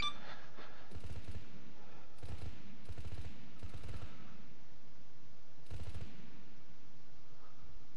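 Bursts of automatic gunfire from vehicle-mounted guns engaging armored targets in the military video game Arma, coming in several rapid clusters with loud, dense rattling and gaps of quiet between them.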